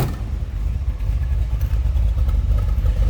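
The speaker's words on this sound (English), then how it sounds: "listen to this 390, nice sounding engine. Kind of a deep, throaty exhaust note." A 1964 Ford Galaxie 500 four-door sedan with a 390 V8 runs steadily, its deep, throaty exhaust rumbling loud and close throughout with no pauses.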